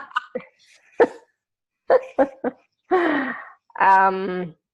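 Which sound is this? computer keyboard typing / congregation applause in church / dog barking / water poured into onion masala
dog barking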